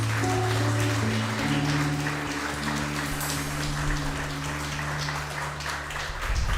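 A church congregation at a Spanish-language evangelical service applauds for Jesus, loud sustained clapping mixed with lingering organ or keyboard tones that drop away, and voices faint in the background.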